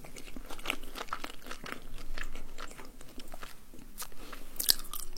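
Close-up chewing of tacos with crisp bites and crunches, uneven mouth sounds repeating over several seconds in a quiet room, no talking.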